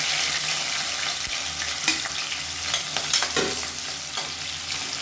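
Chopped onion and three green chilies frying in oil in a pan, a continuous close sizzle with occasional scrapes of stirring and no voices.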